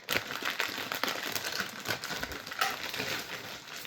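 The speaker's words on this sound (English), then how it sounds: "gotta open another plastic bag that's not meant for children" A plastic bag is crinkled open close by, its dry rustling and crackling coming in quick irregular bursts over a few seconds, with no talking.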